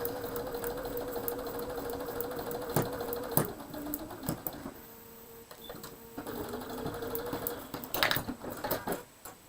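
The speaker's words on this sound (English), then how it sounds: "I'm sewing directly on that line" A home sewing machine runs steadily as quilt blocks are stitched together along a marked line, its motor hum pausing briefly mid-way before resuming, close and moderately loud.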